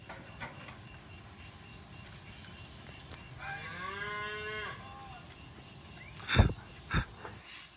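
Cows mooing outdoors in a nature reserve in Guinea-Bissau, one long drawn-out low moo at mid-distance followed by two short, sharp louder calls near the end, over steady ambient background.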